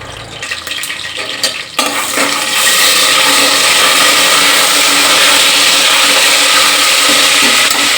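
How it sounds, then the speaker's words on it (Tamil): Cinnamon, cumin, fennel and bay leaf sautéing in hot oil for biryani, a loud, dense, steady sizzle that swells after a brief quieter start with some clatter, no talk. "அப்படியே சின்ன ஜீரகம், பெருஞ்சீரகம் இதையும் போட்டு ஒரு வதக்கல் கொடுத்துக்கிறோம்"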